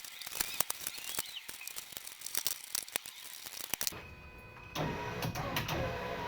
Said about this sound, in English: I'm going to plug in this power window now and I'm going to make sure this thing works